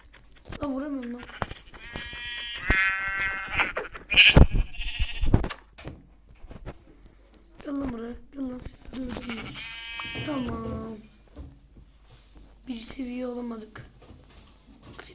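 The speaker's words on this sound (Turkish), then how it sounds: "Ha yine koyun buldum ben." Repeated sheep bleats in a video game, several short calls spaced apart, heard over game sounds and a talking voice.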